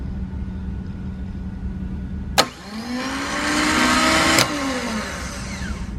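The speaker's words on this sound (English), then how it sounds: "you should see this starter fire over." A Honda S2000 starter motor on a bench, energised through its solenoid, clicks sharply, whirs loudly with a rising whine for about two seconds, then clunks off and spins down, with a steady hum underneath.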